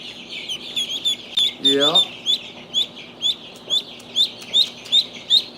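Newly hatched baby ducklings peep in a repeated, evenly spaced series of high chirps close by, with a brief lower clucking burst partway through and a short spoken word.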